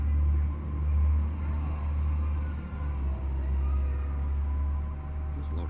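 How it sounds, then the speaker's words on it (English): Low, heavy engine rumble of a passing bus, loud and droning with a faint hum above it and no talk. "that's the loudest bus I've ever heard"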